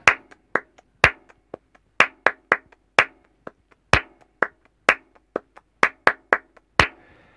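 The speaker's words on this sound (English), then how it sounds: "Yes, clapping is a very important part in flamenco music." Flamenco hand clapping, sharp dry claps ringing alone in a syncopated rhythmic pattern with accented strong beats and lighter in-between claps, close and crisp.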